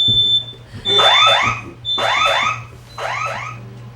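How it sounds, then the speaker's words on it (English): A household smoke alarm, set off by steam from a pot of soup cooking in a home kitchen, shrieks in three loud repeated bursts of warbling electronic beeping, close and piercing, with no talk. "We just set off the fire alarm."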